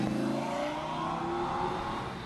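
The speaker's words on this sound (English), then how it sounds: "Even the roar of the engine is often compared to a concerto." A Lamborghini engine rated at 540 horsepower roars and revs in a steady, loud, sustained drone, close and continuous throughout with no talk over it.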